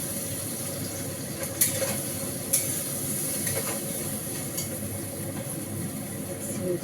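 Spice paste dropped into hot oil in a pan sizzles with a steady, close frying hiss, with a few brief stirring scrapes and clinks, no voices.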